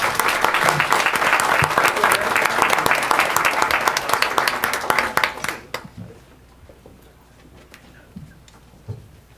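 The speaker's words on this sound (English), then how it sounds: "Let's give him one more big round of applause." Audience at a school board meeting gives a loud, dense round of applause that fades out after about six seconds, leaving scattered claps and room noise.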